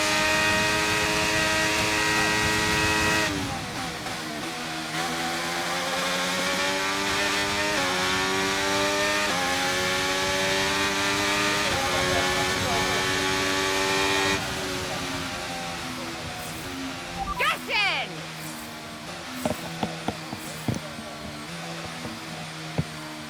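F1 23 race cars scream along a track, a steady high-pitched engine whine with shifting gear tones holding loud and close, then easing off with a few scattered clicks and knocks near the end.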